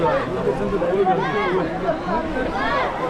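Crowd chatter fills a packed Sunday temple queue at Bhimashankar jyotirlinga, a steady close babble of many overlapping voices with no single speaker standing out.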